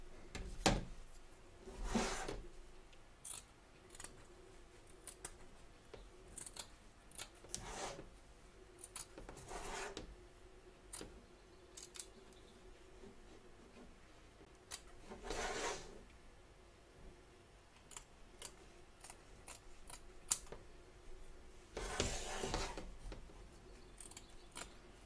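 Scissors snip away excess fabric around an embroidery hoop in a quiet, close series of short crisp cuts, scattered irregularly with pauses, some snips louder than others.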